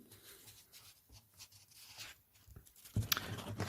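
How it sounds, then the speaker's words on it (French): Crisp paper rustling and tearing-like crackles, quiet at first, then a sharper, louder handling of a sheet near the end. "Attendez un instant, j'ajuste la feuille."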